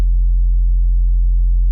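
A synthesized sub bass holds one deep, pure sine-like tone for under two seconds, loud, smooth and steady, alone with no other sound.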